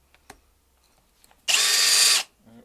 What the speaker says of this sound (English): we've got a 10mm blunt high-speed steel drill bit here, which I use for drilling holes in wood now